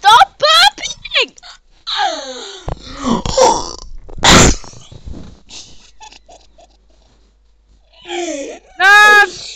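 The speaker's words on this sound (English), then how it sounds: "Stop burping." Burping breaks out amid excited chatter while people play the game Flop Box, with several short gulping bursts mixed among overlapping voices and a loud squeal near the end.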